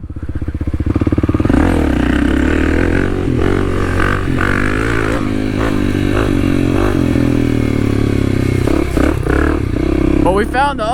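A Kawasaki KLX300 dual sport motorcycle rides through urban streets and mud holes, its engine buzzing steadily and close with clattering, rattling bits throughout, while a rider talks over it.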